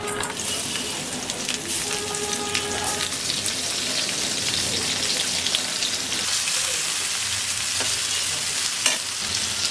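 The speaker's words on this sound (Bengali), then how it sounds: "সবার আগে ইলিশ মাছটা ভেজে নেব" Dense crackling sizzle of hilsa fish frying in oil, close and continuous, with occasional utensil clinks and stirring sounds.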